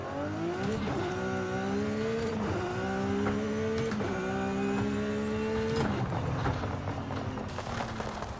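A Lamborghini SVJ in Forza Horizon 5 revs hard and steadily, its loud engine note climbing through repeated gear changes with brief dips between pulls, no talk over it.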